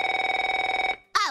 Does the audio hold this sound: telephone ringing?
yes